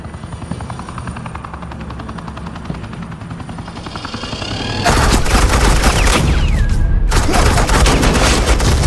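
Suppressing fire in a Batman: The Enemy Within game scene starts quietly over a low helicopter drone, then bursts into loud, sustained automatic gunfire that continues to the end.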